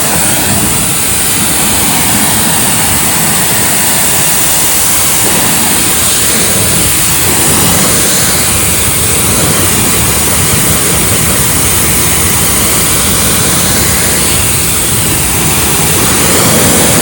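A water spray rinsing a car's wheels and tires during detailing, a loud, steady hiss of rushing water that continues for the whole stretch without pause.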